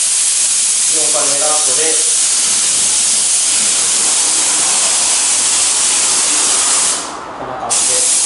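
A spray gun hisses loudly and continuously as paint is sprayed onto a Suzuki Jimny JB23 wheel, the steady rush cutting off near the end; someone talks briefly over the spray early on.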